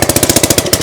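A Briggs and Stratton Intech engine on a 20-ton log splitter, choked, turns over in a rapid, even train of chugging firing pulses, loud and close with no speech.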